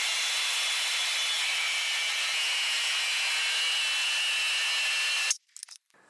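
Power saw cutting through aluminum sheet, a steady loud high-pitched buzzing cut for about five seconds that stops abruptly, followed by a few light clatters.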